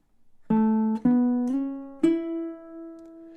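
Baritone ukulele fingerpicking a short riff, played close and clean: four plucked notes ring out one after another in even time, each one sustaining and fading, after soft count-in clicks.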